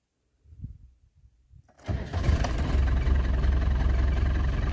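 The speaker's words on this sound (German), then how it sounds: "er quietscht ein bisschen vom Keilriemen her, aber ansonsten ein toller Motor" A rusty barn-find car engine cranks and catches after a few quiet clunks, then settles into a steady idle with a faint high V-belt squeal over it.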